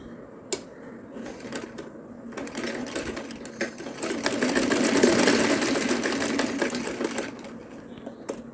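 A sewing machine stitches a cloth chapati napkin, its motor whirring in a steady rapid run that swells louder toward the middle before easing off, with a few sharp clicks near the start.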